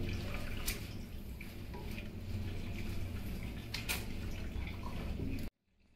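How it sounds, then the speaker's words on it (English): Tap water runs in a steady faint stream while hands are rinsed at a sink, with a few brief splashes before the sound cuts off abruptly near the end. "Rinse hands with water."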